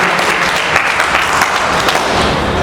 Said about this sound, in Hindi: सब लोगों से निवेदन करूंगा कि जो जोरदार तालियों द्वारा स्वागत करेंगे महाराज जी का